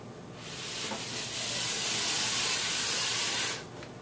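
Water at a rolling boil gives a steady, loud hissing rush with a steamy, spray-like texture, swelling over the first second and then easing off near the end.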